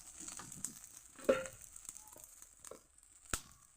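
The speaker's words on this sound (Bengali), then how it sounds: "তেলটাও গরম হয়ে গেছে। এখন আমি দিয়ে দেব ব্যাটারটা।" Chitoi pitha batter with coriander leaves and green chilli meets hot oil in a pan, giving a faint, soft sizzle and crackle with a few sharper clicks and scrapes.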